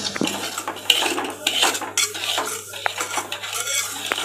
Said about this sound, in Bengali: এই সুজিটা ভাজছি